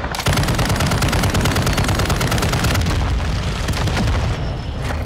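Sustained assault rifle fire in Call of Duty, loud and close, a fast continuous stream of shots with heavy low thumps beneath, easing off just before the end.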